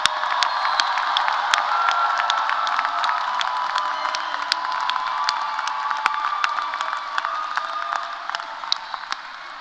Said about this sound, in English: let's give our graduates a big round of applause